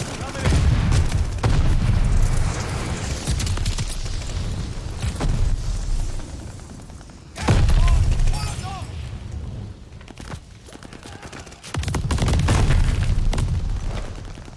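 Heavy booming explosions from a light bomber airstrike in the Call of Duty Vanguard shooter, arriving in three loud, rumbling bursts with gunfire crackling in between.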